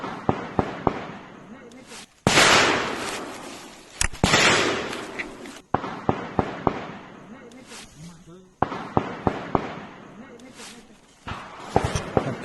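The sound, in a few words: gunfire in forest during Naxal encounter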